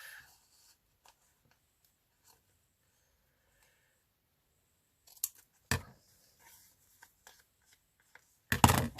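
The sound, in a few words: scissors trimming the edge of a book page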